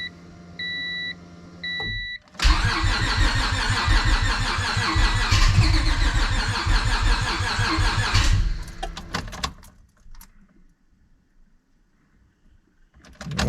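A few electronic beeps, then a nitrous stroker V6 swapped into a Honda Civic cranks loudly and sputters for about six seconds, trying to catch without fully starting, before fading into quiet clicks.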